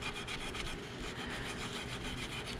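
Corrosion is scrubbed off a DeWalt wet tile saw, a continuous close rasping rub with quick back-and-forth strokes, steady and moderately quiet, with no voices.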